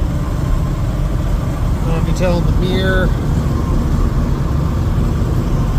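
A 1979 Dodge Power Wagon with true dual exhaust rumbles steadily while driving after 25 years off the road, a loud, constant low engine drone under someone talking close by.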